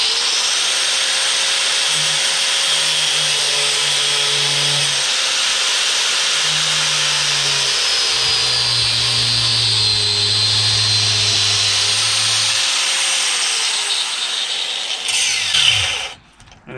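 A standard 4.5 inch angle grinder cuts through a plastic crate with a steady, loud, high-pitched whine that keeps up for most of the stretch, broken by a few lower tonal shifts as the disc bites. It stops abruptly near the end.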